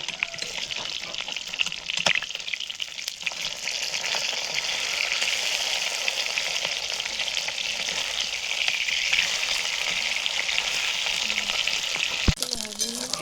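Charapona fish fry in hot oil in a pan, giving a steady close hiss and crackle of sizzling that runs unbroken throughout, with a sharp clack near the end.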